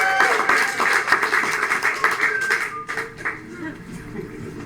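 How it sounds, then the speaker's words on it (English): A studio audience claps for game show contestants coming out, brisk clapping that fades after about three seconds, with a bright musical sting over it. "So with a round of applause, let's welcome out our Jeopardy contestants"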